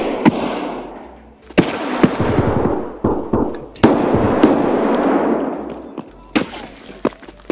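Suppressed gunfire in the shooter game Escape from Tarkov: a series of sharp muffled shots, some in quick bursts and others spaced apart, each followed by a long decaying echo, with faint voices in the background.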